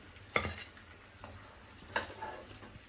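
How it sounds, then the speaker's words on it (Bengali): Bombay chilli pakoras fry in hot oil with a faint, low sizzle, broken by two sharp clinks of a utensil against the pan, close by with no talking. "এইভাবে আমি পরপর সব ভেজে নেব"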